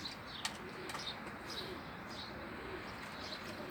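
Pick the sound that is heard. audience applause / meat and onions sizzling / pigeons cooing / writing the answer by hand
pigeons cooing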